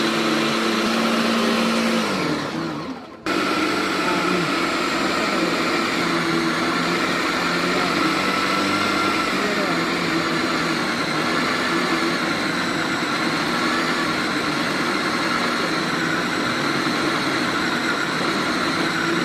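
A food processor kneads atta dough with water, its motor whirring loudly and steadily. After a brief dip near the start, it runs on without a break.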